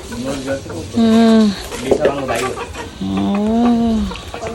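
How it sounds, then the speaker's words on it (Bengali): Native village chickens cluck and call nearby in drawn-out, wavering bursts, clear and fairly loud, with people talking around them. "এই যে দেশি মুরগি"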